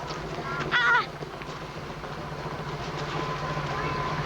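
A tram running on its rails gives a steady low rumble with a squeal of wheels near the start, while a voice talks over it.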